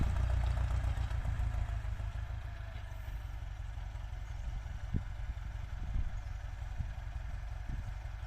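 A Ford 6640 tractor engine lugs at low revs while plowing a field, a deep steady rumble heard from some distance, with scattered faint clunks and clatter over it.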